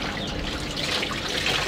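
Water dripping and trickling steadily from freshly dyed fabric after dyeing in a Tajik textile craft setting, a continuous dense splashing patter heard close and loud with no talk.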